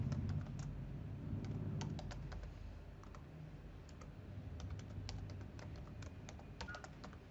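Steady typing on a computer keyboard while a password is entered during an online sign-up, with rapid irregular clicks running throughout over a low background hum.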